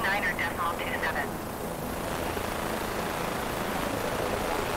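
Bell 407 police helicopter engine in Microsoft Flight Simulator, a steady broadband turbine and rotor roar that continues evenly throughout, with a radio voice speaking over it at the start.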